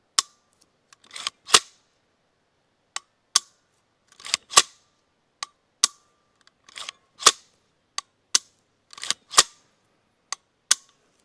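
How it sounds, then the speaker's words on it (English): A HIPERFIRE rifle trigger being dry-fired, producing crisp, loud, close metallic clicks in irregular pairs and singles with short silent gaps between them, no voices. "Give you a little idea of that HIPERFIRE trigger."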